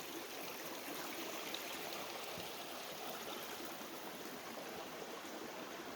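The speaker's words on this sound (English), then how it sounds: "crossing this creek here" A creek flowing under a bridge along the Wilson River trail, a steady broadband rushing and babbling of water heard alone at a constant, moderate level.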